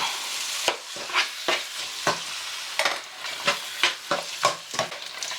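A spoon stirs canned tomatoes into a simmering stew, with repeated scraping strokes and light taps against the pot over a steady sizzle, close and without talk.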